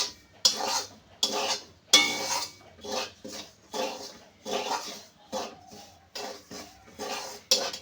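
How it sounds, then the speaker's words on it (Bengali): Semolina and flour stirred in a pan while roasting for taler bora, with regular scraping and clinking strokes of a utensil against the metal, roughly one per second, close and clear, with no talk over them. "আর এইভাবে একটু নাড়তে নাড়তে বেশ দারুণ একটা কালার আসবে।"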